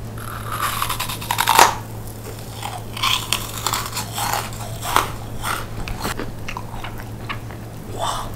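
Crunchy dried jelly bitten and chewed up close, with a series of sharp crackling crunches, the loudest near the start, followed by steady, softer chewing bursts.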